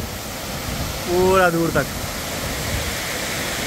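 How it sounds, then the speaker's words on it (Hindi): Water pours from Srisailam Dam, a steady broadband rush that runs through the whole stretch, with someone speaking briefly over it. "बस पानी गिर रहा है।"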